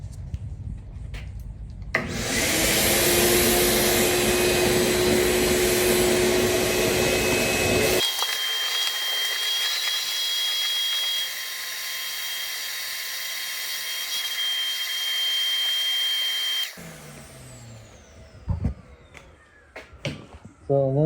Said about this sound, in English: I'm gonna suck up this dust here